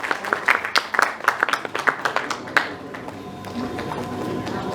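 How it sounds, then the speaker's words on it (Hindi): A small crowd at a Bollywood awards ceremony gives a short burst of scattered clapping, a few distinct claps close by that quickly thin out and fade into room murmur. "एक बार जोरदार तालियां"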